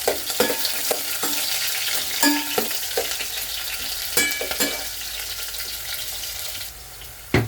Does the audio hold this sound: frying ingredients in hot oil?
yes